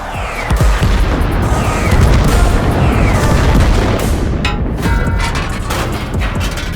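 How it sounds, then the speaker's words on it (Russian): Deep booming explosions and launch blasts roll through a Soviet defense strategy video game battle, heavy low rumbles overlapping densely with sharper bursts and crackling debris for several seconds, loud and continuous. "Это пуски ракет и бомб."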